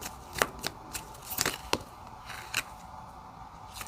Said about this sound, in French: je ressens que je dois prendre une carte ici